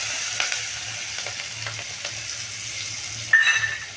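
Curry leaves, two chilies and green garlic frying in hot oil, a steady soft sizzle with a few sharper crackles and a louder burst of spitting near the end.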